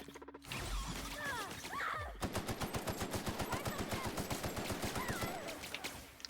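Automatic gunfire in the sci-fi video game The Outer Worlds, played on hard mode: a long, rapid run of evenly spaced shots follows a few scattered sounds and effects, and a voice is heard faintly near the start.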